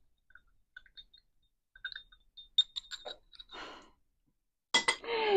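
A spoon clinks against a glass as barley grass powder drink is stirred, giving a series of light, close taps and rattles ending in a brighter clatter, with no voices.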